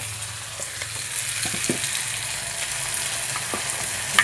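Cinnamon, cloves and stone flower spices fry in hot oil for sambar, giving a steady close sizzle with occasional small pops and clicks and no voices.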